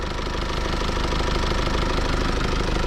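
A 2020 Mercedes E200d diesel engine with AMG package idles steadily and close by, its knocking, slightly rattling clatter continuous and loud throughout with no talk.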